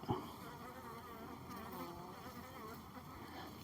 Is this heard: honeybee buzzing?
yes